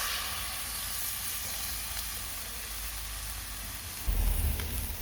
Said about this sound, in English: I'm going to let that pan get hot, and then I'm going to cook this rump steak for about a couple of minutes on each side